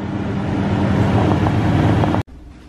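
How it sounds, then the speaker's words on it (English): Strong wind at about 20 miles per hour roars steadily across the microphone in heavy broadband buffeting for a couple of seconds, then cuts out abruptly near the end. "The wind's blowing at 20 miles per hour."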